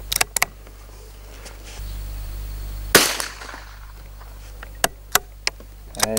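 Rifle shots fired while zeroing a Schmidt & Bender Zenith 1.5-6x42mm scope, a sharp report near the middle standing out over several smaller sharp cracks, outdoors with a steady low background hum.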